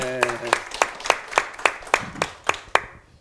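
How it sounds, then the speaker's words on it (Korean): At a church leaders' conference, about ten sharp, evenly spaced claps ring out in a steady beat after a short bit of speech at the start, close and distinct, fading at the end. "박수."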